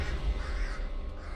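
A single crow caws in a video game, a short harsh call set over a rumbling ambient background at moderate volume, with no speech.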